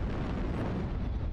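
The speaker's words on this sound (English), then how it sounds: "Warning, incoming missile." Incoming missile explosions in MechWarrior Online, a heavy, sustained low rumbling blast filling the moment, loud and close, no talking.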